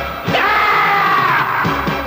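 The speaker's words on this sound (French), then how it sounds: "mettez un son Goku qui crie là" Goku scream sound effect played on a French stream: a loud, sustained yelling voice lasting about two seconds, rising and straining with harsh bursts, close and dominant.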